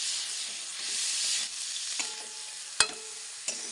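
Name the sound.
stirring potatoes frying in a pan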